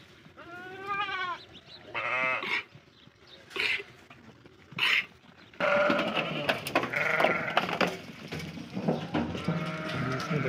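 Goats and young kids on a farm in Saudi Arabia, several bleating calls at close range, some long and wavering, set apart by short pauses, followed by a busier stretch of overlapping bleats and farmyard noise.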